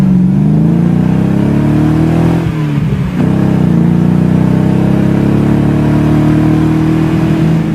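A BMW Z8 roadster's engine revs loud and close, a steady high-rpm drone that dips briefly around the middle before climbing back and holding strong, with no voices over it.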